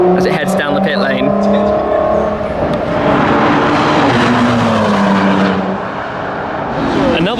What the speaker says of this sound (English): The rasp as it heads down the pit lane.